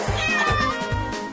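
A cat meows repeatedly in a rhythmic series of short, clear calls in the video game Catlateral Damage, close and fairly loud with no speech over it.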